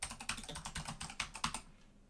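Steady, close clicking of keys on a Razer keyboard, a run of evenly spaced presses at a moderate pace before it trails off.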